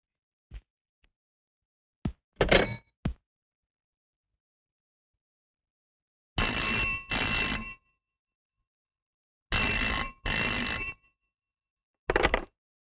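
Old-style telephone bell rings in repeated double bursts separated by silences, clear and fairly close, with no talk over it.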